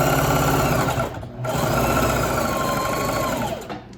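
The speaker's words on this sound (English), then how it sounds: "I think you're ready to sew our sails." Sewing machine stitching boat sails, a loud close mechanical whir that pauses briefly partway through and then runs on steadily before slowing at the end.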